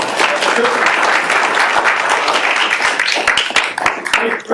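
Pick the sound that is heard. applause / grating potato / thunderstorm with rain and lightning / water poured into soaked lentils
applause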